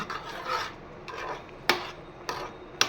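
Semolina cooking in milk is stirred with a spoon scraping against the pan, a few soft rasping strokes followed by sharper scrapes, close and alone without speech.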